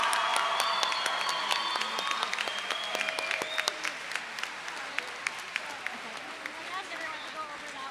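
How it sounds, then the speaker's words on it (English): Applause for the staff on stage at a school's 40th anniversary Mass fills a large hall, warm continuous clapping from a crowd that slowly thins, with voices and stray noises mixed in. "Round of applause for all of the amazing staff on stage."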